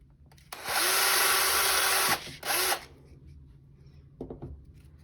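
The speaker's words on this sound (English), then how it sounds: "So we want to drill a bigger hole so it fits through" A power drill with a 1/2 inch bit whirs loudly for about two seconds while boring a hole through an arrow kit part, cuts out, briefly spins again, then a few light knocks follow.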